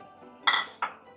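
Metal pots and utensils clink as mutton goes into a pressure cooker for shami kabab, with chana dal added alongside: two sharp, close clattering knocks, the first longer and ringing, the second shorter, over a quiet kitchen background.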